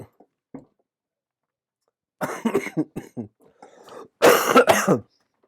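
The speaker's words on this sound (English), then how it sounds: "I'm not coughing because of the liqueur." Several harsh coughs and throat clearing up close, in short bursts separated by silence, ending in a louder fit of coughing.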